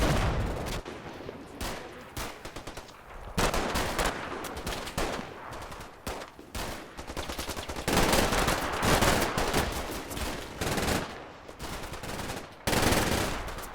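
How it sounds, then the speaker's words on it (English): Gunfire exchanged over a hilltop between German and Allied troops in the World War II strategy game Combat Mission Final Blitzkrieg: bursts of machine-gun fire and scattered rifle shots crackle irregularly throughout, loud and close. "The Germans have another crack at taking the hilltop, and gunfire is exchanged"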